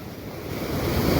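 A flooded river at Bharathapuzha rushing by in a brief, continuous watery roar mixed with wind noise across the microphone, steady and fairly close.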